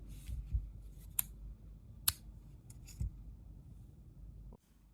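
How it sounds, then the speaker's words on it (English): Scissors snip crochet thread in a few quiet, sharp clicks spaced about a second apart against a faint low hum, close and alone without speech. "Now we'll cut the thread."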